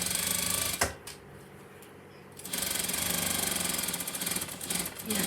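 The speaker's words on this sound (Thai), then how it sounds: "แล้วเราก็อันนี้ก็เหมือนกันเย็บไป" A sewing machine stitches darts in a skirt with a fast, close mechanical whir. It runs in a short burst, pauses for over a second, then runs steadily again.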